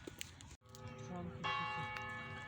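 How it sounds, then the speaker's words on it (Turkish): A church bell in Nicosia, Cyprus, rings with steady sustained tones over background chatter, a brief dropout near the start, then louder strikes that linger and hum. "Çan!"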